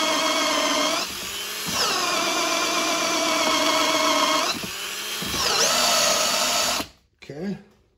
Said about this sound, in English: What we're gonna do is drill it out to 3/4.